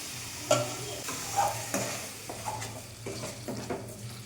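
Ground tomato fries with onions in a pan, a steady sizzle under repeated scraping stirs from a spoon against the metal, close and moderately loud with no speech.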